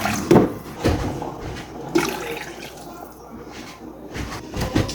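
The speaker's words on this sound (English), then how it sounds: "I'm gonna add in my lentils. We're gonna add in some more water." Water poured into a pot of lentils with juice already in it, a splashing, gurgling pour with a few louder bursts near the start, close and steady throughout.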